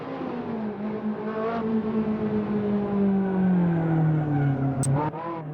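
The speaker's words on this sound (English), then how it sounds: "We're talking about the Ferrari 458 Italia with 570 horsepower, just like the Lamborghini" A 570-horsepower Ferrari 458 Italia races on a track, its engine note sweeping smoothly down and then back up as it accelerates. A sharp, quick shift blip comes near the end, followed by the engine pulling again, loud and close.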